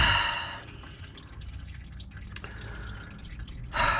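Transmission fluid dripping into a drain pan under a Dodge Ram 2500, a close, uneven spatter of drips with a louder burst of pouring at the start and end, no voices.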